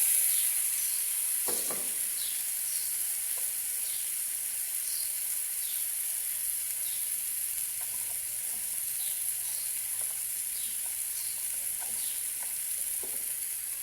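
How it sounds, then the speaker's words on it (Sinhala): Potatoes fry in a pan with a continuous, close hiss of sizzling oil, soft crackles and pops scattered through it and a faint low hum underneath, no voices. "ආලු ටිකක් දානවා."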